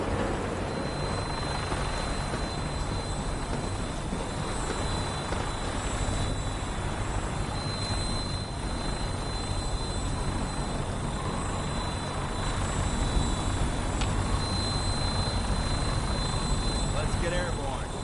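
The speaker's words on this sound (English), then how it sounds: "we have a vertibird on standby, fully armed and ready to depart" A vertibird aircraft engine in a video game makes a steady, loud rotor-and-turbine drone that holds constant throughout, with a high whine on top.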